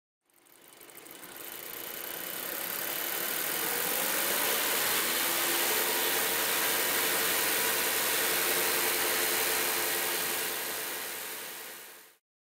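A car engine idles steadily, running rich during exhaust gas analysis, a continuous even drone with a faint whining tone that fades in and tails off at the end, with no talking.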